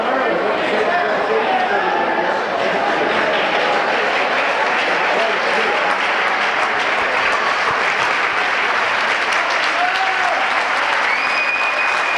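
A packed gym crowd at a 1992 Midwest Tourney high school basketball game claps and cheers steadily for a player leaving the court, a dense, loud, unbroken wash of applause with crowd noise throughout.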